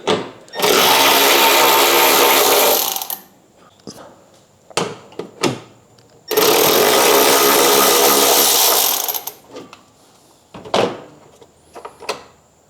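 Bolts come out of a Toyota Tacoma with an 11mm socket on a power tool: two loud, sustained whirring bursts of several seconds each, separated and followed by sharp clicks and clanks.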